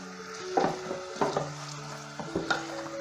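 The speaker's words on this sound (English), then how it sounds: "So the onions need to be fried off for, I would say, at least 5 or 6 minutes" Chopped onions sizzle steadily while frying in a pan for a vegetarian cottage pie, with several clattering stirring strokes from a utensil scraping the pan, close and moderately loud, no talking.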